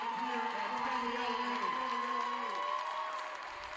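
A home crowd at a girls' varsity basketball game rises to its feet, cheering and applauding in a sustained roar that tapers slightly at the end, with a voice carrying over it.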